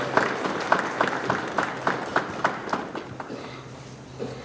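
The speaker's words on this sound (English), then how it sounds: "So can I get a round of applause for our MTIs?" Scattered applause from an audience at a military graduation ceremony, a moderate patter of claps with distinct rhythmic louder hits that thins out and fades near the end.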